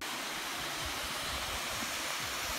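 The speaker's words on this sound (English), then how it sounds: "So, this is a waterfall" A waterfall in Tasmania gives off a steady, broad rush of falling water that holds constant throughout, with no voices.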